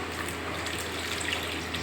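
Water is poured into a pan while an egg curry cooks, making a close, steady liquid pour with no talk.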